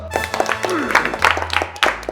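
Audience at a poker tournament event applauding over a lively room, with a host's voice talking over the clapping throughout.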